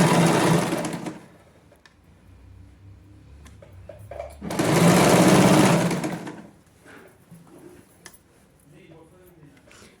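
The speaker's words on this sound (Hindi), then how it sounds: "इस स्टिच को इस तरह से रख के एकदम हम सिलाई लगा लेंगे पास पास" Sewing machine stitching a hidden pocket on a palazzo, with two bursts of steady whirring motor noise, the second longer and louder, close by, while someone speaks between and over the runs.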